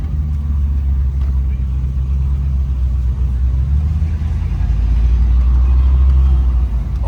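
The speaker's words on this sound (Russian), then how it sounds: "Очень много машин." Many off-road cars and trucks rumble and rev at an off-road free fest special stage in 2021, producing a dense, continuous low engine drone with people talking over it.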